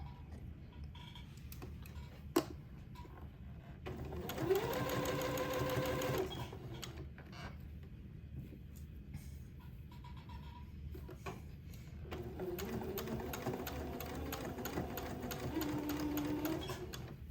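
A sewing machine stitching along a smocked collar neckband, running in two steady whirring bursts with quiet gaps and small clicks between them, close and fairly soft, no talking.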